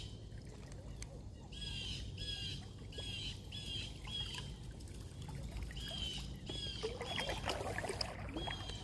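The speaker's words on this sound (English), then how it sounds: "birds are noisy. I think they're blackbirds, red-winged blackbirds" Red-winged blackbirds call repeatedly in a marsh during topwater fishing from a boat, their bright squawks and trills recurring throughout over steady water and background noise.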